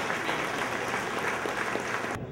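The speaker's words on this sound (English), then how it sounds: "The repeal of Obama's health care plan was a crowd favorite, receiving a standing ovation" A crowd at a political rally rises in a standing ovation, sustained applause filling every moment with dense, steady clapping that cuts off sharply at the end.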